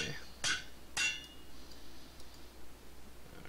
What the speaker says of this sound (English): And hammer away.